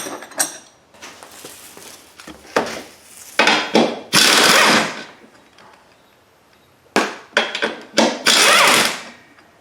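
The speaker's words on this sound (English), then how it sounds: "I'm going to undo this cross brace." A ratchet clicks in several quick bursts with pauses between them as cross brace bolts come off a 2002 Chevrolet Impala, loud and close, with no talk.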